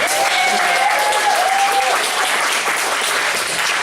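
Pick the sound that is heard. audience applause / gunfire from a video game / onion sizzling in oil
audience applause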